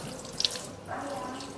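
Water is poured and rinsed over a body during a funeral washing, after shampooing, a faint close splash and trickle with a couple of brief drips and no clear talk.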